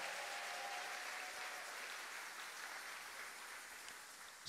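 A church congregation applauding to acclaim Jesus Christ during a sermon: steady, dense clapping fills the whole stretch, fading slightly toward the end with no voices over it.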